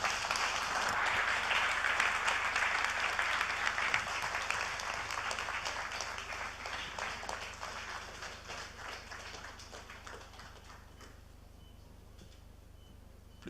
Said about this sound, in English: Please, another resounding round of applause to Mr. Governor